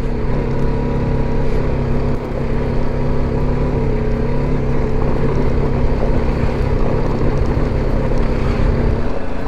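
Motorbike ridden over a potholed dirt road in Deosai National Park, Pakistan: a steady, close engine drone with wind buffeting the microphone, continuous throughout with no pauses.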